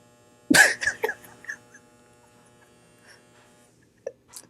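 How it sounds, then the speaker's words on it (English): A clothes dryer's low, steady electrical buzz hums faintly throughout, interrupted near the start by a few sharp knocks and clatters. "if this dryer did not stop buzzing"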